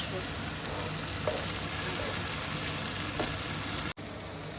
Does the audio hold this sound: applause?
no